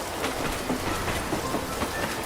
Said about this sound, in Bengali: ট্রেনটা যেমন এসছিল তেমনই চলে গেল বৃষ্টি মাথায় নিয়ে